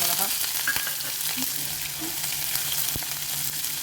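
Urad dal, chana dal and cumin frying in hot oil for a rava idli tempering give a soft, steady hiss with a few scattered crackles and pops.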